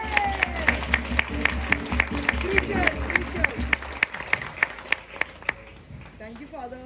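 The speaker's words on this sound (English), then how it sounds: "could we join our hands together one and a mighty clap to the Lord for our parish priest" During a feast-day Mass at a church, a congregation breaks into a rhythmic round of applause. Sharp, evenly spaced claps fill the room while voices cheer and call out over them, and the clapping then trails off.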